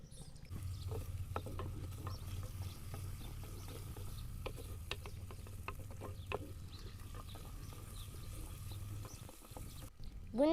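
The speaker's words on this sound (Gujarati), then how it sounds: "મિક્સ કરી દઈશું।" Gunda vegetable curry with chilli, crushed gathiya, peanuts and buttermilk being stirred and mixed in a pan, a steady low scraping and bubbling bed with scattered small clinks, fairly quiet and continuous.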